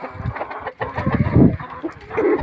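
A Lohmann Brown hen clucking close by, a series of short throaty clucks and murmurs in an uneven rhythm, with no talk.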